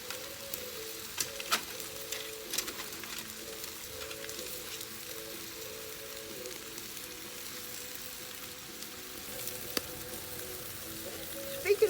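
Meat cooks on a grill at an outdoor barbecue cook-off, giving a steady, soft sizzle with scattered crackles and pops throughout, fairly close and even in level.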